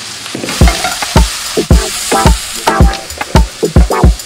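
Steady sizzling and crackling of vegetables frying in a pan, with repeated scraping and stirring knocks from a utensil, close up.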